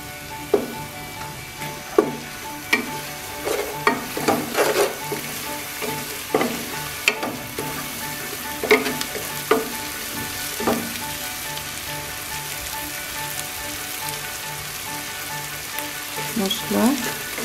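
Rice fries in a pan with spices for bhuna khichuri, a constant sizzle punctuated by scattered scraping stir strokes and clinks that recur irregularly throughout, close and fairly loud with no talking.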